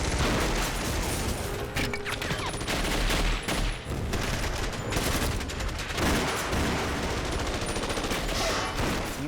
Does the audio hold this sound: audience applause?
no